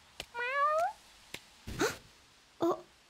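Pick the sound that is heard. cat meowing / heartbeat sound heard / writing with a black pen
cat meowing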